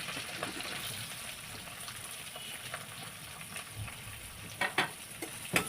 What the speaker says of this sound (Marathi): कांदा तेलामध्ये परतून द्यायचा आहे